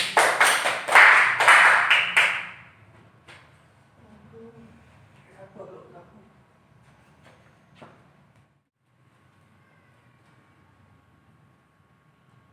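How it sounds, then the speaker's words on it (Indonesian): Students in a classroom break into applause, a burst of close, dense hand clapping that lasts about two seconds and then stops, leaving faint room noise and scattered low thumps. "Ya, beri tepuk tangan dulu."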